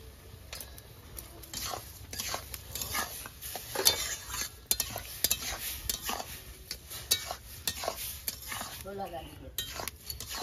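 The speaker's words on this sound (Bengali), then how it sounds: "দু মিনিটের মতো ভালো করে সুজিটা নাড়াচাড়া করে নেব" Semolina halwa being stirred in a pan with sugar, giving steady scraping and clinking of a spoon against metal with faint sizzling, close and moderately loud throughout.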